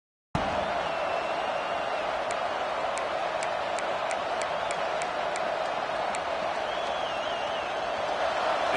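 Football stadium crowd producing a continuous, loud roar of cheering and noise, steady from start to finish, with faint rhythmic ticks scattered through it.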